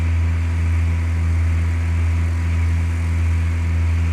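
An airplane engine in Flight Simulator 2004 holds a loud, unbroken drone with a low hum and no variation, flying a holding pattern over Puget Sound near Paine Field, Everett, Washington.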